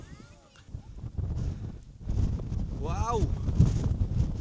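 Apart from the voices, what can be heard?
wind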